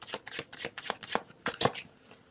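Tarot cards shuffled and drawn, a quick series of soft riffling slaps and flicks, close and quiet, with no voice.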